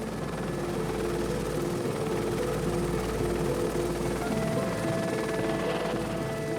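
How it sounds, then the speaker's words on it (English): Helicopter flying over open Kenyan savanna during a wildlife relocation, a continuous droning engine and rotor hum, steady and fairly loud throughout with no speech. "Spooked by the noise of the helicopter,"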